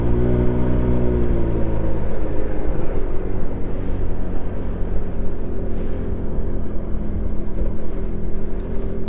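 A 50cc TaoTao scooter idles nearby with a steady, loud engine drone and even buzzing hum that holds through the whole stretch without letup.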